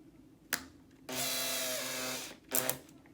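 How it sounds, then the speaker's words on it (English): A power drill spins a turnbuckle clamped in its chuck during an RC car build: a short blip, then a steady whir of just over a second, followed by another brief burst, all fairly quiet with no talk. "I have to use a drill, okay, and then I stick the turnbuckle"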